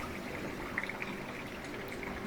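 A KitchenAid dishwasher filling with water after start is pressed, a soft steady stream of running water heard from inside the closed machine at low level, without talk.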